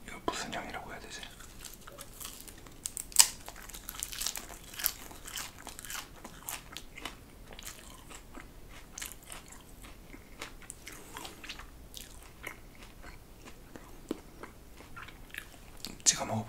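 Raw celery eaten close up, with crisp crunchy bites followed by steady moist chewing and crackly mouth sounds running throughout, plus a few sharper snaps; no talking.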